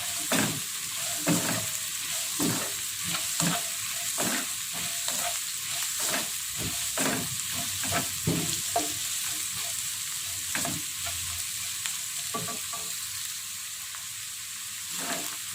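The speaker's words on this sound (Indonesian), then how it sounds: "selanjutnya kita masukkan tempe yang kita goreng ya. Kita aduk rata." Fried tempe being stirred in a frying pan for a tempe and onion stir-fry, with a steady sizzle under repeated scraping strokes of the spatula, close and fairly loud.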